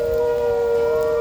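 Steady civil-defense-style siren tone heard from far away at the Calgary Zoo on a rainy day, a sustained single wailing pitch holding level throughout, no voices.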